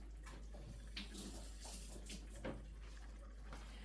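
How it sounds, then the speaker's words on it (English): Potatoes and a kitchen knife rinsed under a running tap, a continuous soft water stream with small splashes and knocks, fairly faint and close, no talk. "Rinse the Pappas, rinse my knife."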